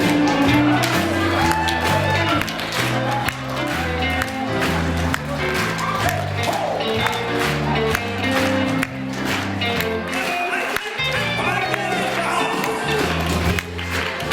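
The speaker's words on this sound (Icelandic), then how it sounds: "nú er allir að klappa með." Crowd at a hotel Christmas party claps along in steady rhythm and whoops over loud live music, with shouts rising from the room throughout.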